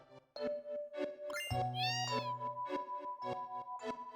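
A cat meows repeatedly in quick succession in the Final Fantasy 7 video game, each call short and tonal, alongside a soft chiming tone; quiet and steady, with no talking.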